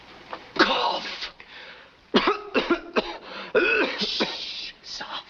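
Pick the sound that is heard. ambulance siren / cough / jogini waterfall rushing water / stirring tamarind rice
cough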